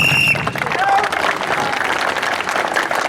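Loud applause from a crowd at a yoga event at Maharishi Kanva's ashram for Basant Panchami, dense sustained clapping after a brief voice at the start.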